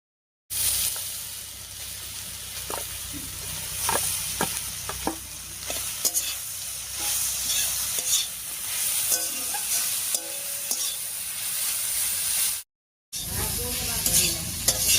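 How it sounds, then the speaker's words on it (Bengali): Grated taro frying in oil with a tempering of dried chilli, cumin and bay leaf, a steady loud sizzle broken by repeated scraping strokes of a spatula, with a brief cut near the end. "এবারে গ্রেট করা কচুটা দিয়ে দিচ্ছি।"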